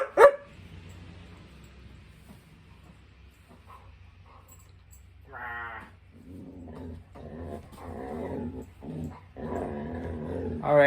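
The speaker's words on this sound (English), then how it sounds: "the doggy is riled up" A riled-up dog barks and growls in a living room, a sharp bark at the start, then a quiet stretch before bursts of growling and repeated barks grow louder and more frequent toward the end.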